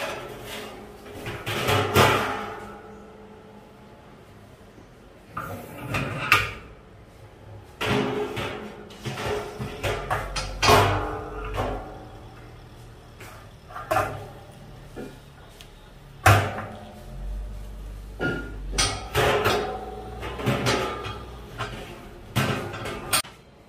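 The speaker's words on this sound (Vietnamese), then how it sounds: "Sau khi chúng ta đã vệ sinh xong thì chúng ta lại lắp cái tay quấy vào." Metal stirring arm being fitted back into a 120-litre banh duc cooking pot, giving a string of clanks, knocks and scrapes at irregular intervals, fairly close and moderately loud, with no talk.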